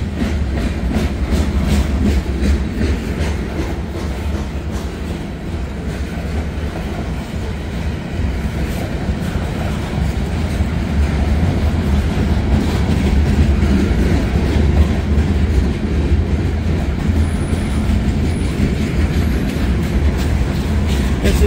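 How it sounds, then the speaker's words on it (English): A local freight train of boxcars rolls steadily past on the rails for the whole stretch, a loud, continuous rumble and clatter of wheels with faint metallic squeals near the end. "that's all boxcars."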